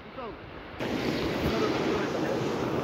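The Burtibang river flows past a fishing spot, a steady close wash of water that swells in after a brief quieter opening with a few faint chirps, with some wind buffeting.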